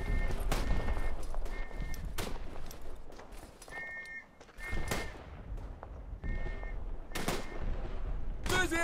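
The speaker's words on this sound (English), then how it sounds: "Hopefully I'm dropping artillery on the right position." Artillery and gunfire thunder through a World War I battle in the game Tannenberg, with repeated heavy booms and rattling shots over a constant rumbling battlefield backdrop.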